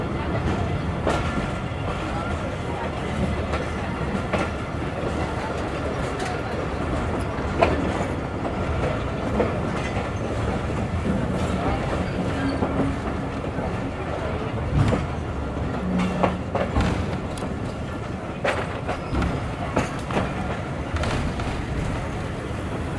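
Jaffer Express passenger train rolling on after departing Sukkur station, a steady broadband rumble of wheels and carriages with faint intermittent clicks, continuous and fairly close throughout.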